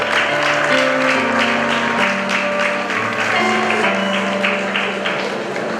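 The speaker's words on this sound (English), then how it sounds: "Keep clapping." An audience at a graduation ceremony keeps clapping steadily, the dense applause running alongside sustained tones of accompanying music, at an even loudness from start to finish.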